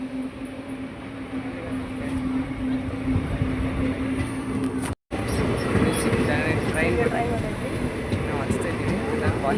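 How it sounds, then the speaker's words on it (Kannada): A passenger train pulls into a station, its broad rumbling roar and rattling wagons sustained throughout, with a steady tonal hum and people talking nearby, briefly cut by a short gap midway. "ನೋಡಿ ಬಂತು ಟ್ರೈನ್."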